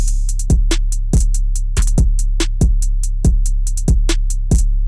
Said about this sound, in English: So the drum pattern sounds like this.